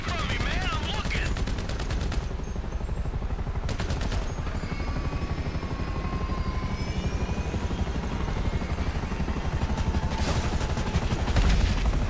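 Gunfire during a helicopter firefight in Grand Theft Auto V, with rapid shots pattering steadily under a continuous rotor drone, with a few louder clusters of bursts.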